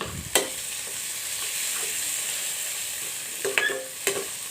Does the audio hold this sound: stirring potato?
yes